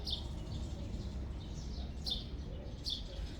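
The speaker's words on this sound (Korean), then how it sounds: "우리 짹짹이는또 옆에까지 따라와서 배경음악 깔아주네요" Small birds chirp in short, repeated bursts over a steady low outdoor rumble, fairly faint and at some distance.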